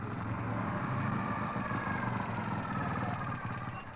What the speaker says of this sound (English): what's that other noise? It's a policeman on a motorcycle.